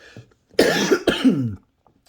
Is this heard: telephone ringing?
no